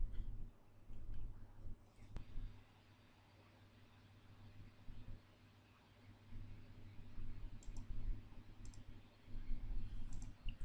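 Faint mouse clicks sound sporadically over a quiet computer room hum, a few sharp clicks late on, with no talking.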